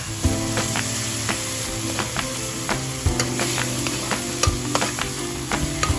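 Chopped tomatoes and tomato paste sauté in a pan with a steady, close sizzle, broken by repeated clinks and scrapes of a utensil stirring at an uneven rhythm.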